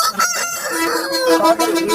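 A rooster crows up close at a market, its strained call stretching across the moment amid some background clucking.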